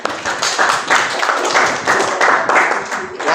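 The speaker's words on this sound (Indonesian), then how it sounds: "Oke, tepuk tangan." Students in a classroom clap together after answering questions correctly, a run of rhythmic, fairly close claps in bursts with some voices mixed in.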